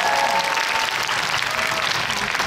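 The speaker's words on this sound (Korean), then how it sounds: "박수 한번 부탁드릴게요" A packed cinema audience at a special screening event applauds, a dense, even roar of clapping from many hands filling the hall without pause.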